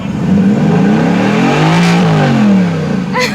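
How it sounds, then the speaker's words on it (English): A 2018 Mercedes-Benz AMG GT Convertible's twin-turbo engine revs loudly and close by, its pitch rising and falling through a couple of sustained throttle blips, with no talking over it. "So can I rev it up now?"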